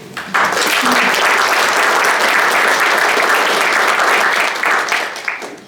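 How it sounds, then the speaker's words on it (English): Loud, full crowd applause at a business summit after an AI panel, rising abruptly and sustained at a steady, dense level before tapering slightly near the end. "can we give a round of applause for Libby?"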